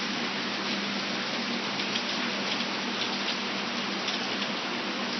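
Hail pours down outside during a Baltimore storm as a dense, steady roar of stones striking surfaces, loud and continuous with no gaps and no voices.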